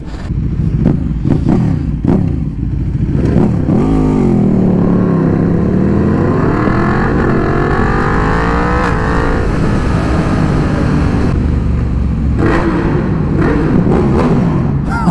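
Loud motor engine, apparently a motorbike, revving up and down continuously with rising and falling pitch sweeps, close and steady over fifteen seconds, with brief laughter or voices at the start.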